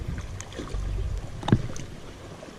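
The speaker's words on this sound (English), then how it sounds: "The wind is picking up a little bit." Wind gusts across Honeoye Lake while someone fishes for bass, rumbling and buffeting the microphone with a low, uneven roar and one brief knock midway.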